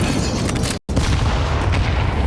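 A grenade goes off in Counter-Strike 2, a single loud, full-bodied boom that sits over continuous match noise, with a brief dropout partway through before the rumble carries on.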